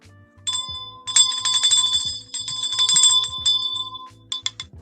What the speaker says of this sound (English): Okay, and that means you got to ring the bell.